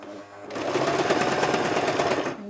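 Close up, a sewing machine stitches a 1/4 inch seam along a woven fabric edge for a little girl's dress, a brief burst of rapid, evenly pulsing whirring that starts and stops cleanly with no talk.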